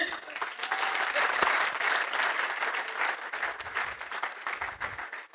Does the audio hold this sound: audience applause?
yes